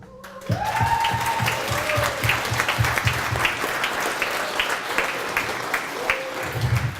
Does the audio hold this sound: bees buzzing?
no